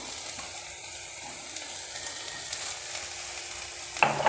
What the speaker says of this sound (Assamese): তেল গৰম হোৱাৰ পিছত কুটি লোৱা পিঁয়াজ এটা দি দিলোঁ।